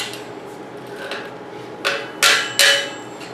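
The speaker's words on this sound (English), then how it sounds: "So I get out my adjustable wrench. You could use a socket if you really want to. And you're just going to tighten it now." An adjustable wrench clinks against a mountain bike part during assembly, a few soft knocks and then three sharp metallic taps in quick succession near the end, close up with no voices.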